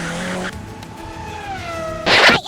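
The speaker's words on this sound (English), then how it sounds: "Vroom, 2 fast cars." Cartoon race cars in a children's 3D animation whoosh past with a tire-squeal skid, a sustained engine whine sliding downward, then a loud bright burst at the end, close over soft music.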